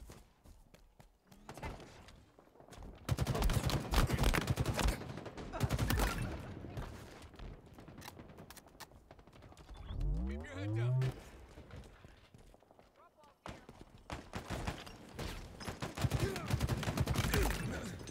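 Rapid gunfire bursts in a Halo team slayer match, with dense, loud volleys in several stretches, broken by quieter gaps and a rising electronic whoosh.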